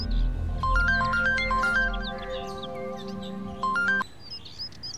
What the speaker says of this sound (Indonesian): Telepon Hina